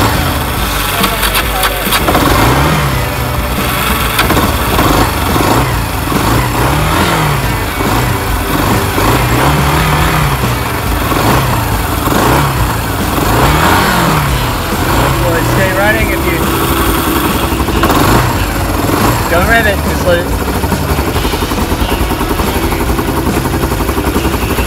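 Small ATV engine cranking and catching after a choke adjustment, then running with a rough, rising and falling putter close by, with people talking over it.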